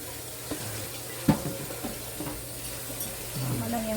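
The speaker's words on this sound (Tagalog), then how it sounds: "Titimpla na ang ating malagkit. Kailangan haluin mabuti." Glutinous rice mixture for bibingka stirred in a bowl, with soft wet sloshing and scraping strokes and an occasional knock, close and fairly quiet.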